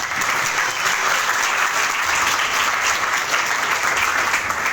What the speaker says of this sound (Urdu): تالی بجاتے ہیں اس بات کو